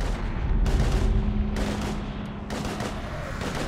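Heavy automatic gunfire in the sci-fi shooter Mass Effect 3 during a fight against husks, several loud bursts of sustained shots one after another with no talk over them.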